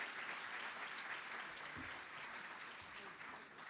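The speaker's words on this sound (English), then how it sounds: "Please join me, everyone, in a round of applause." Applause from the audience at a community federation's annual meeting: steady, even clapping from a room full of people, fairly distant and soft, fading slightly toward the end.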